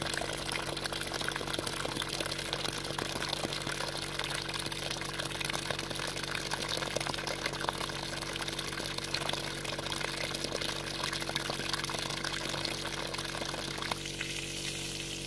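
Water and air flushing out of a heating system during sludge removal, a steady loud rushing, bubbling hiss that runs unbroken the whole time, with a slight change in texture near the end.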